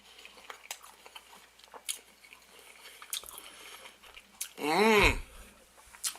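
Someone bites into food after dipping it, with faint soft chewing clicks followed by one loud, close, wet squelching crunch lasting about half a second, then quiet mouth sounds, with no talking.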